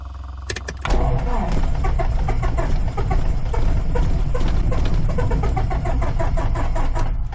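The engine of a Piper Warrior light aircraft cranks briefly, then catches and settles into a loud, steady, throbbing run, heard from inside the cockpit and close up.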